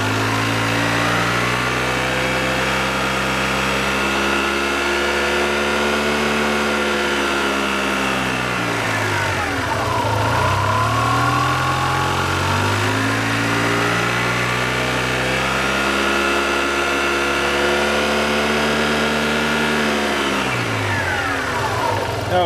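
A motorcycle engine under service climbs from a steady idle to higher revs and settles back down, twice in a row, loud and close with a continuous droning tone.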